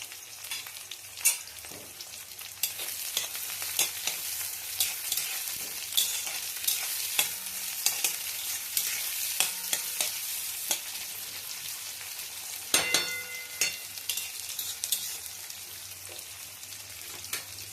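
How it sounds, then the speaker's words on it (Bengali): Onion being stirred and fried in a pan, a constant crackling sizzle with frequent spatula scrapes and knocks against the pan, close and unvoiced. "পেঁয়াজটা দিয়ে একটু"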